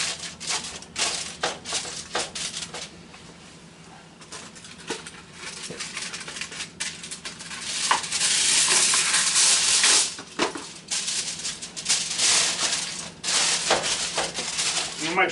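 Aluminium foil is crinkled and pressed over a ham and hashbrown casserole dish, giving a close, steady rustling and crumpling that swells louder midway and continues in bursts.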